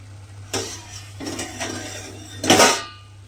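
A metal lid comes off a cooking pot of mung bean curry, with a few clanks and a final louder metallic clatter against a low steady hum, close by and without talk.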